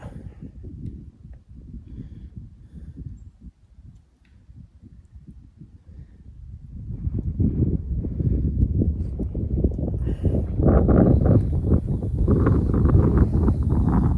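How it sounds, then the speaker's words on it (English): Gusty wind buffets the microphone on a frozen lake while ice fishing, in rough, low rumbling bursts, easing briefly before building into a louder, sustained roar. "man, is it windy out here today."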